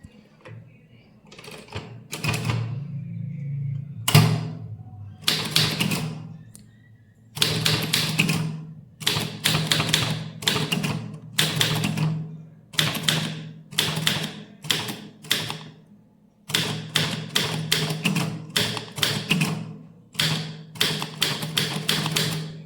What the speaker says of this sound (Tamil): இது வரைக்கும் எப்படி மிஷினில் டைப் பண்ணலான்றதை இந்த வீடியோ இப்போ பார்க்கலாம்.